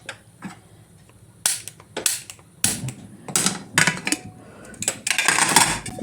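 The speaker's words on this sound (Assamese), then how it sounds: "গেছত কুকাৰটো বহাই দিওঁ কাৰণ মই গেছত বনাম" A pressure cooker holding a little water is set down on a gas stove, giving several sharp metallic clanks and knocks at close range between quieter moments.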